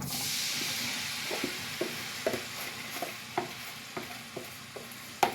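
Vegetables, sauces and minced garlic go into hot oil in a wok for chicken teriyaki noodles. A steady broadband sizzle plays throughout, with a dozen or so sharp clicks of a utensil scraping and stirring spaced about half a second apart, and there is no talking.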